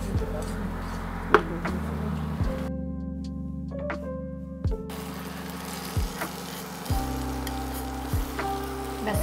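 Dried fenugreek leaves (kasuri methi) dry-roasting in a pan for aloo keema, giving a steady close sizzle and crackle with occasional scrapes and taps of stirring.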